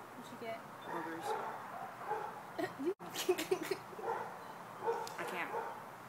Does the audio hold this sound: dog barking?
yes